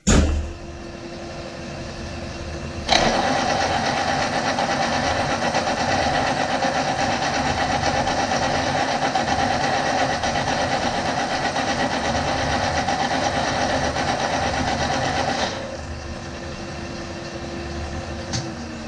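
A milling machine fitted with a Bracer multiplier head hums and whirs steadily, a faint motor drone rising to a louder, constant mechanical whine for most of the clip before dropping back.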